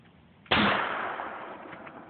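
A hairspray-fuelled potato cannon fires outdoors by the Missouri River: one sharp, loud blast after a moment of quiet, followed by a long fading rush.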